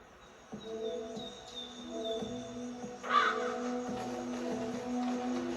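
Crows caw repeatedly in the PS2 game The Mark of Kri, the calls standing out clearly over a steady layer of tonal game music with no talking.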